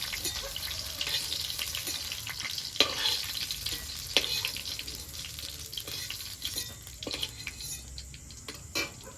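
Fish pakoras crackle and sizzle in hot oil at close range while a utensil repeatedly scrapes and clinks against the pan as they are lifted out, with no talking.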